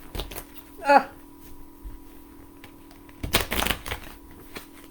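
A quick riffle of playing cards being shuffled, a short burst near the start and a longer rattling flutter later, with a little speech around it.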